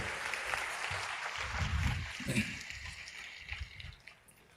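A church congregation at an evening service claps together in a burst of applause. It sounds somewhat distant and muffled, rising, then thinning out into scattered claps over a few seconds.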